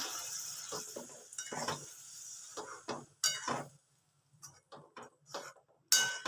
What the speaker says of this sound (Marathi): मी चमच्याने का बरं हलवत आहे की मसाला निघत नाही ना